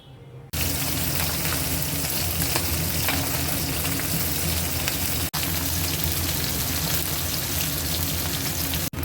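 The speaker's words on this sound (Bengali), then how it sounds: "তেল গরম হয়ে গেছে এবারে মাছগুলো ভেজে নেব" Fish frying in hot mustard oil in a wok, a loud, dense, continuous sizzle that starts abruptly, briefly dips once midway, then carries on unbroken without any talking.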